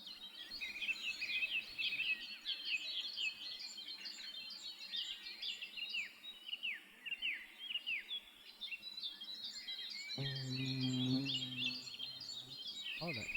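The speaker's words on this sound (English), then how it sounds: "This is someone actually sat here and recorded this bird." Small songbird sings repeated chirping phrases outdoors, clear and fairly close against a quiet background, with a low buzzing hum, like a bee, joining near the end.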